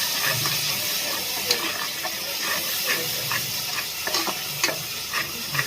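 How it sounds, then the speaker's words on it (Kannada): Turmeric and chili powder masala frying in a pan, a steady close sizzle and hiss with intermittent scrapes and taps as a spoon stirs it, no voices. "ಚೆನ್ನಾಗಿ ಫ್ರೈ ಮಾಡ್ಕೋಬೇಕಿದೆ"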